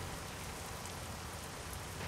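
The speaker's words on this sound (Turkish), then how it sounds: "Yağmur başladı." Rain falls in the trucking video game American Truck Simulator, a dense, constant patter with no pauses, steady and even throughout.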